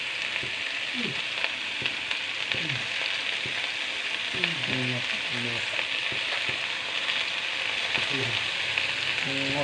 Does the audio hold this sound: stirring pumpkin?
yes